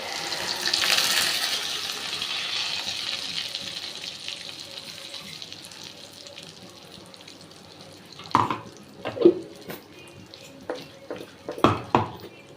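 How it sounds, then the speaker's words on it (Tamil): Water runs from a tap, splashing as a mixer jar is rinsed, then tapers off into a few sharp clinks and knocks of the jar being handled. "மிக்ஸி அலம்பி விட்டுண்டாச்சு."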